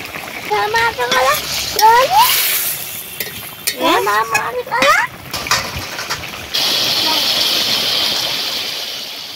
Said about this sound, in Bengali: এবারে দিয়ে দেবো ভেজে রাখা মাছগুলো।